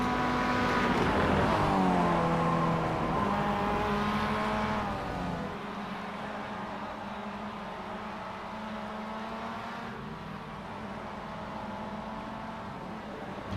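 A race car engine in a racing game slows as the car pits, its tone sliding down through gear changes before settling into a steady low idle-like drone, loud and close with no talk.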